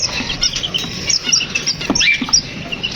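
Shrill overlapping chirps and tweets from a group of small sun conure parrots, steady and nearby, with faint background rustling.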